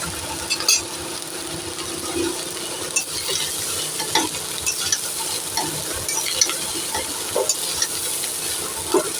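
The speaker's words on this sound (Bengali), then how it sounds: "প্রথমে অল্প একটু দেবো, দিয়ে নেড়ে দেবো, তারপরে আবার অল্প একটু দেবো।" Rice being stirred into a hot kadai for fried rice, a steady scraping and sizzling that runs throughout, with repeated spatula knocks and clatters against the metal pan and no voices.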